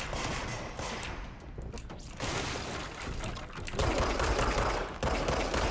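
Gunfire from the video game Control: a dense, steady rattle of shots running through the whole stretch, growing louder and fuller toward the end, with no talk over it.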